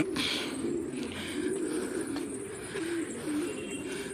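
Domestic pigeons cooing in a loft, soft repeated low coos and a few bird calls over a steady background hum, with no talking.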